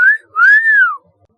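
A man whistles softly as he walks into a room at night: two gliding, melodic phrases, a short one and then a longer one, clear and close with nothing else behind them.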